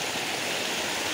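A small stream, bigger than an irrigation channel, rushes steadily after heavy autumn rains, a close, continuous broadband wash with no other sounds.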